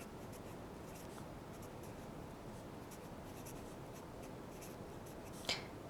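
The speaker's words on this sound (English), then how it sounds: "Let me write this out." Steady scratching of a marker or chalk writing on a board in a math classroom, a continuous quiet stroking texture with one sharp tap near the end, no voices.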